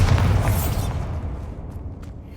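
A Bombarda spell explodes in Hogwarts Legacy, one loud, close, deep boom at the very start that fades into a rumbling tail over about two seconds, with no talking.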